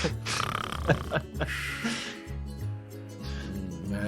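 A man imitates loud snoring with his voice, a run of rough, throaty snorts and rattling breaths close to the mic, interleaved with speech-like vocal sounds in a tabletop role-playing session.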